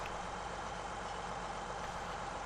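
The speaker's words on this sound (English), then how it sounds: "Harvester start up" Harvester engine in a farming video game, a steady, fairly quiet mechanical drone holding an even idle hum throughout with no talking.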